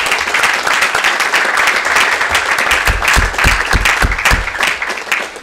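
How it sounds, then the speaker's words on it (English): A conference audience applauds a panel steadily, a dense wash of clapping hands that continues for several seconds without talk. "please give one more round of applause to our panelists"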